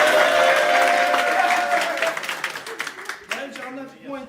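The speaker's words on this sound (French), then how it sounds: "On peut applaudir Maël." Applause for Maël starts as a dense wash of clapping, then breaks up into scattered individual claps as it fades, with voices calling out over it.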